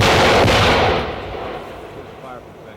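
Vietnam War artillery fire goes off as one loud, sharp blast, then rolls into a fading rumble over the next couple of seconds.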